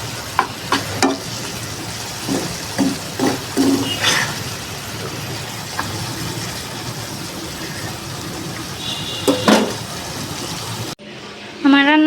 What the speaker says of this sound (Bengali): কুমড়ি শাক দিয়ে চিংড়ি মাছ রান্না করা হচ্ছে